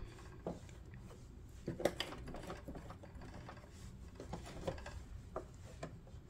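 Stitch selector dial being twisted on a Brother SM2700 sewing machine, producing a series of small mechanical clicks and ratcheting ticks at irregular intervals, close up and fairly quiet, with no voices.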